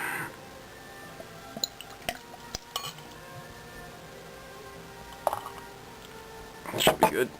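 Beer is poured into a Blanche de Chambly glass close up, with glass clinks and liquid trickling and fizzing, and louder splashing near the end amid light background sounds.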